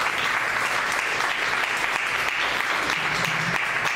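Dense, loud applause from a church congregation fills the space continuously, a steady wash of many hands clapping with no talk over it.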